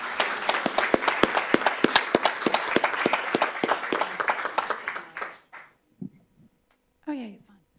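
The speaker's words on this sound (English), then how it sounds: "Let's give them a round of applause." A school board meeting audience applauds Ms. Abraham's class, honored as Artists of the Month, with dense, lively clapping for about five seconds before it fades out. A few brief sounds and a faint voice follow.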